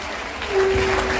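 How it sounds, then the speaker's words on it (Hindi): A crowd at a Sanatan Dharma Sansad religious gathering bursts into applause for an arriving guest speaker, the clapping swelling loudly halfway through a brief moment, with a voice and a faint steady tone underneath. "एक बार जोरदार तालियों से पूज्य"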